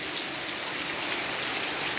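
Steady rain falls around a house on a wet day, a constant even hiss of drops on surfaces without pause or voices.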